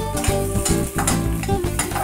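Sausage fries in hot oil in a pan with a steady loud sizzle, punctuated by repeated scraping and stirring knocks against the pan, close up with no talk.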